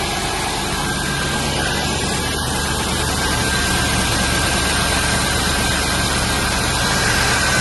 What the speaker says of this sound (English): Cold start, as you can see.